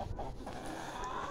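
Hens and a rooster clucking in a farmyard enclosure among other animals, a steady low murmur of fowl calls with no clear standout crow.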